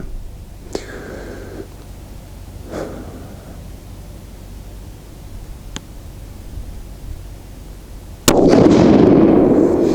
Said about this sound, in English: I'm gonna shoot between the 2 targets on the right.